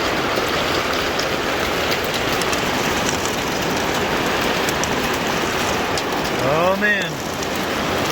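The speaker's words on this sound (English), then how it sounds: "Oh, I can hear the hail." Dense, steady pattering of hail drumming on a greenhouse, with a brief exclamation from a voice near the end.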